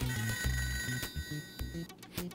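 A telephone rings inside the ToeJam & Earl Redux video game, a repeated electronic trill layered over bouncy in-game music and effects, with no one talking.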